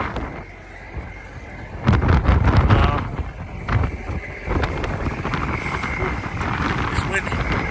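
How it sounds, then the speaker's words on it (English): Gusty wind buffets the microphone outdoors, rumbling low and loud in bursts while people talk over it. "It's windy."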